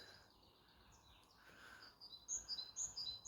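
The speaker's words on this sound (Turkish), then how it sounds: "Şu kuş sesini duyar mısınız?" Faint high chirps and short bird calls repeat over a soft outdoor hiss in a canyon, growing livelier toward the end, distant and gentle.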